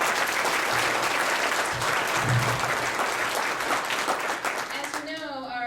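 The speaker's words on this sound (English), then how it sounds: "Can we get a round of applause for our guests today?" An audience at a property management association meeting claps for its guests, a dense, steady round of applause that fades near the end as a voice begins to speak.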